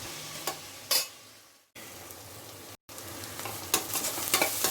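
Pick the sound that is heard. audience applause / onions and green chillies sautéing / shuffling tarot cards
onions and green chillies sautéing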